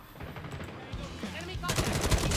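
Gunfire in Call of Duty Mobile rattles off in fast automatic bursts, faint at first and then louder and denser toward the end, with players talking over it.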